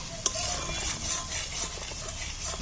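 Ground mustard spice paste sautéing in a generous amount of oil for a Bengali masala fish curry, a steady soft sizzle with light stirring scrapes and a faint utensil tap.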